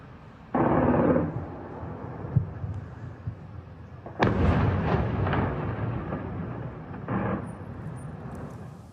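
Two heavy, rumbling booms from a drone attack near a military airfield roll out at a distance, one near the start and a longer one midway, followed by a softer thud amid low background rumble.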